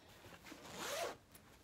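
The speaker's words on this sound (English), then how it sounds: "underneath there, that is the zipper, to whereas you can take out the mattress" A zipper drawn along the cover of a large foam pet bed, one quiet close zip that swells briefly to a rasping peak and then stops.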